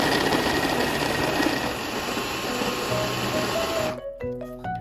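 A blender grinds peas, oatmeal, salt, cinnamon powder, lemon juice and cooking wine into a smooth batter, running loud and steady before cutting off near the end.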